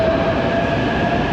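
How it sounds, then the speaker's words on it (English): A subway-style train rumbles past at a busy station platform, with a loud, close, steady roar and a faint high whine over it, continuous throughout and free of talk. "you can see this train."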